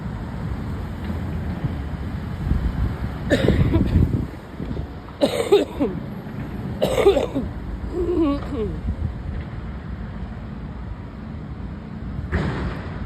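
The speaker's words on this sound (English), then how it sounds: "that cough sounds horrible" Several harsh coughs in short bursts over outdoor wind and traffic rumble on a Montreal street, with a pause before one final cough near the end.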